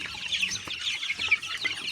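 Chickens and chicks cluck and peep together in a home brooding setup, a busy cluster of soft calls close by with no talking.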